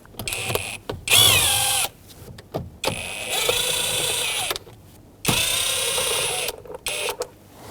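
A 5.5mm socket driver backing out three screws from the lower steering column cover of a 2011-2016 Ford F-350, loud whirring bursts broken by pauses and small clicks, close up.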